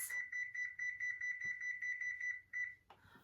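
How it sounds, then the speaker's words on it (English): A kitchen timer being set for 20 minutes gives off a rapid run of thin electronic beeps, faint but clear, pulsing steadily for a few seconds before it stops with a soft click. "Let me set the timer for 20 minutes."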